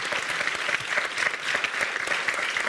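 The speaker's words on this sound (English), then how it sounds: "I want please ask for an applause for Christian and Maarten" A symposium audience gives steady, moderately loud applause, dense overlapping clapping with a few distinct claps, no talk over it.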